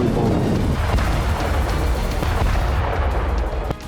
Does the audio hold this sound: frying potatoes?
no